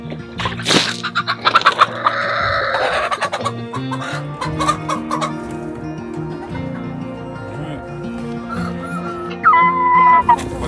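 A Bruges fighter rooster clucks and gives a few loud, close calls, with faint talking and rustling around it.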